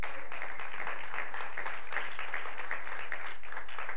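Church audience clapping together during a sermon on love and marriage, a dense, steady patter of many hands, fairly loud and continuous, with no speech over it.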